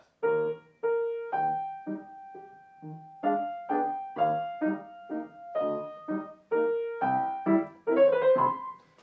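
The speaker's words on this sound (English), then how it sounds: "Without the pedal down, it sounds like this" Piano notes played without the sustain pedal sound short and detached, each cut off before the next, in a clipped, evenly paced melodic line without talking.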